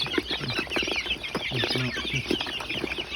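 Several chickens cluck and cackle close by in quick, overlapping bursts at feeding time, with no talking.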